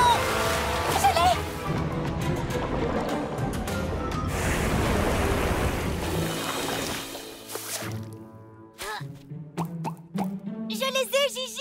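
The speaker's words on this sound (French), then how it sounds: "On dirait une sorte de fontaine ou un ruisseau ou une inondation!" Rushing water like a fountain, stream or flood in the animated Polly Pocket series: a loud, dense gush and splash for several seconds, then voices and splashy effects take over.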